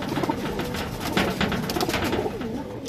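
Teddy pigeons cooing in repeated soft, throaty rolls, several birds close by with overlapping calls and some background rustle.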